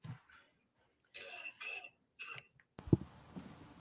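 Several close, raspy coughs and throat-clearing bursts come in short separated bouts, followed by a sharp thump and brief noise.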